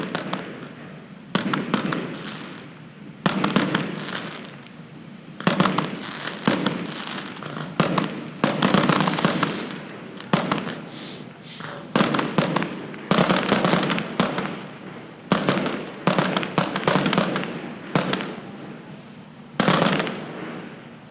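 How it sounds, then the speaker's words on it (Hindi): Fireworks display at an opening ceremony in Karachi, with a continuous series of loud booming bursts and crackling pops in irregular clusters, fairly close and filling the whole stretch. "और अब आतिशबाजी का एक दिल फरेब नज़ारा आप इस वक्त अपनी स्क्रीन पर देख रहे हैं।"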